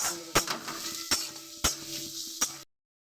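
Chillies frying in oil in a pan, a steady close sizzle punctuated by four sharp metallic clinks of a spatula against the pan at regular intervals, no talking, ending abruptly in silence.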